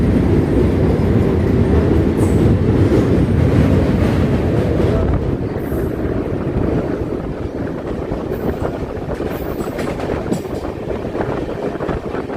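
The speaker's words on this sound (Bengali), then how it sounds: "তো ট্রেন চলে আসলো বন্ধুরা নিউ বঙ্গাই জাংশনে" A Saraighat Express passenger train runs steadily with a loud continuous rumble and rattle of wheels and carriages, heard close and alone throughout.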